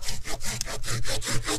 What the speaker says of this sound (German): Und jetzt sägen wir ihn ab.